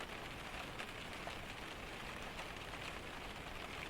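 Heavy rain falling in a solid curtain beyond the edge of a veranda roof, a steady, even hiss with no pauses, soft and constant throughout.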